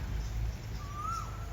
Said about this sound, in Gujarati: કોયલ બોલે છે